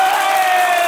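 A comedy show audience of singles briefly erupts in cheering and shouting, a loud, dense crowd roar lasting under a second.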